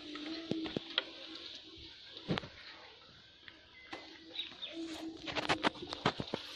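Pigeons coo repeatedly in a village pigeon loft in India, soft close calls mixed with wing flutters and rustling, with brief sharp knocks and sparse chirps scattered through.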